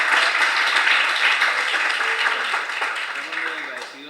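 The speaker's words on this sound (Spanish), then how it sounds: "Al menos un aplauso." Audience at an academic lecture on cultural studies gives steady, dense applause that carries on throughout and fades slightly near the end, with a voice faintly beneath it.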